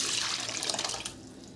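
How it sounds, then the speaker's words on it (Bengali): Lentil dal pouring over fried tomatoes in a pan, a steady watery gush for about a second before tapering to a quieter liquid hiss. "এবার ওপর দিয়ে ডাল দিয়ে দেব"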